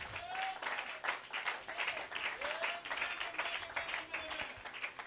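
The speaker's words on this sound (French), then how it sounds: "Donnez-lui une main d'acclamation" Applause from a church congregation during a French-language sermon, a steady wash of clapping that holds throughout, with a few faint vocal tones rising over it.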